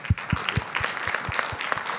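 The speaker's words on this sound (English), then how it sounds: "So quick round of applause." Scattered, sparse claps from a small audience at a tech presentation on single-page architecture, a few distinct hand claps in a loose rhythm, fairly quiet.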